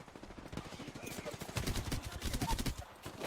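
Rapid hipfire gunshots in Apex Legends, bursts of automatic fire that build from lighter shots into a dense, louder stretch of rattling rounds, with game sounds around them.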